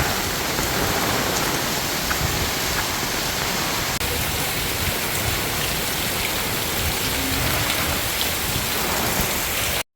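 Heavy rain pours steadily and loudly, a dense continuous hiss of drops hitting surfaces with no voices over it.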